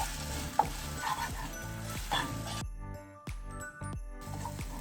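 Chicken pieces coated in oyster sauce stirred in a hot pan for a spicy chicken fry, with steady sizzling and a few sharp utensil scrapes and clinks, close and fairly loud throughout.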